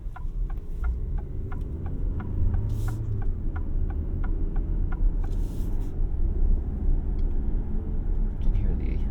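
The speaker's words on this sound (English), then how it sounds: "You can hear the gas motor is kicking on here." Gas engine of a 2024 Alfa Romeo Tonale Ti plug-in hybrid kicking on during night city driving: a steady low cabin rumble and hum with faint regular ticking, no talk.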